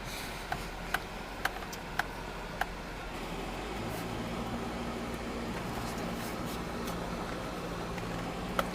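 The air conditioning in a lifted 2003 Honda CR-V with all-wheel drive runs with a steady low blower hum inside the cabin, a few faint ticks early on and a deeper droning tone settling in midway.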